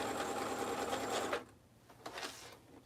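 A sewing machine runs a basting stitch along a fabric edge, a steady close whirring for just over a second, then it stops and a few soft handling clicks follow.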